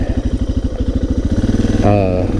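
Suzuki DR650 motorcycle being ridden, its single-cylinder engine thumping in a fast, even pulse close by, rising slightly in pitch near the end.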